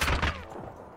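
Gunfire in the game Apex Legends, a quick cluster of a few sharp shots at moderate volume that then fades out.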